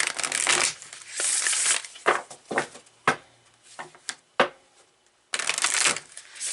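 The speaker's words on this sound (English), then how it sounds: "I'll go ahead and do a couple more shuffles here" Cards being shuffled in several quick riffling bursts, with short pauses and a few sharp taps between, close and fairly loud.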